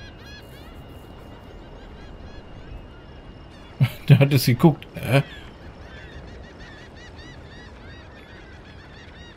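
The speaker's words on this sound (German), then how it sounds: "Und die Möwen lachen ihn aus." In Hitman 3, a short cluster of harsh seagull cries rings out for about a second over quiet ambience, with someone talking.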